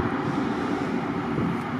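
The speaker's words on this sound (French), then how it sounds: "Putain d'avion." A small airplane passing overhead near a riverbank during magnet fishing, a steady broad engine drone with some wind rumble, continuous and moderately loud, with no talk.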